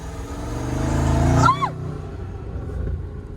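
A car speeds past in a race with a Ford Mustang, its engine note swelling to a loud peak and then dropping sharply in pitch as it goes by, fading into road noise.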